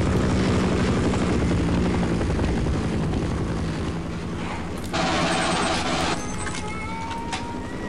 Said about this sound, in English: Ah, helicopter.